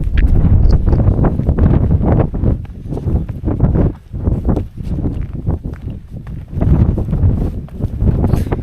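Strong wind buffets and gusts across exposed high ground in the Northern Fells, loud and close, with rough blustery rumbles that dip briefly and then surge again.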